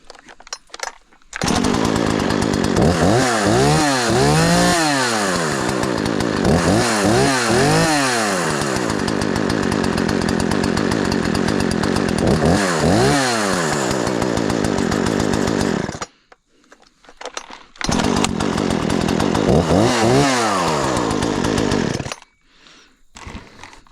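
A Husqvarna 240 chainsaw runs loud and close, its engine revving up and down in repeated surges, cutting out briefly, then roaring again before dropping off near the end.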